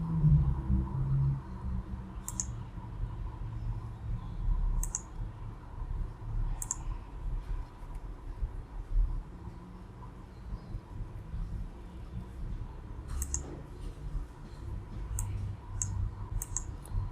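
Computer mouse clicks, a handful of sharp, isolated taps spaced irregularly over a quiet low room hum, close and fairly distinct, no talking.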